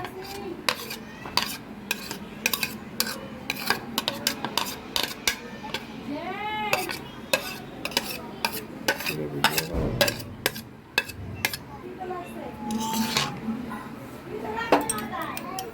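A utensil stirs peas and egg into fried rice in a pan, making repeated sharp scrapes and metallic clinks at an uneven rhythm, with a voice talking and a cat meowing briefly in the background.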